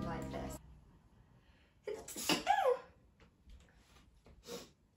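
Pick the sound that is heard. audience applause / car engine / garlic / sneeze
sneeze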